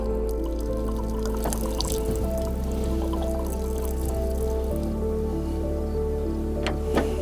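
Water draining and trickling out of a Bouge RV water heater on an overland shower setup, a steady dribbling pour running continuously over a low mechanical hum, close by with no talking.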